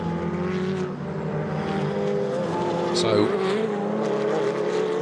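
Ferrari Challenge race cars race at Le Castellet in a Trofeo Pirelli event, engines screaming through gear changes and passing close together, while a commentator talks over them.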